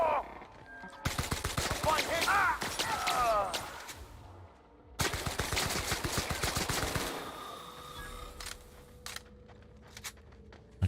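Gunfire in The Outer Worlds video game: two loud bursts of rapid automatic shots, each lasting a couple of seconds, separated by a short pause, followed by scattered single clicks and quieter ambience.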